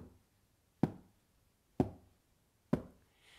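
Hands tap a steady beat on a carpeted floor, three dull single thumps spaced evenly about a second apart, close and alone.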